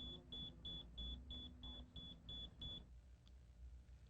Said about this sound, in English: The depth sounder on this boat is equipped with an alarm.